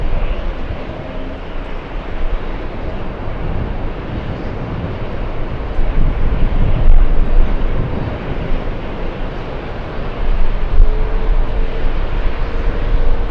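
An Etihad Airbus A380 jumbo airliner roars steadily as it comes in to land, a broad, loud engine rumble that swells toward the middle and stays heavy with wind noise throughout.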